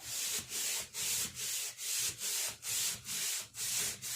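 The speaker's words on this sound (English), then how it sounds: "So then we scrub it up, the bottom of the tub." A brush scrubs the bottom of a turtle tub in quick rhythmic back-and-forth strokes, about two per second, close and alone, with a rough abrasive texture.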